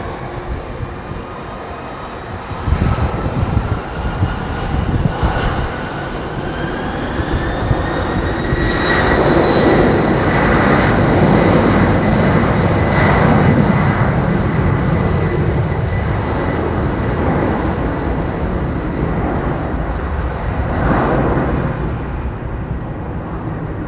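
An airplane departs London Heathrow Airport, its engine roar building and holding steady for over twenty seconds with a rising whine. It stays loud and continuous, with no talking.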